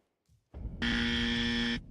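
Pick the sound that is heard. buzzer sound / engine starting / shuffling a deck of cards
buzzer sound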